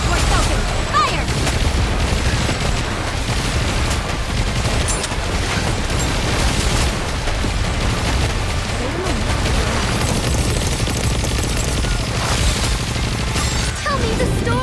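Gunfire and explosions in the video game NIKKE, a dense, unbroken wall of booming blasts and rapid shots at steady high volume, with voices talking under the barrage.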